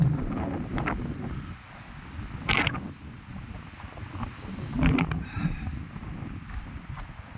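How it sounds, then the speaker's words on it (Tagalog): Strong gusts of mountain wind sweep across an alpine lake at Grassi Lake, roaring and buffeting the microphone in loud, uneven surges with brief creaks. "Sobrang lakas ng hangin."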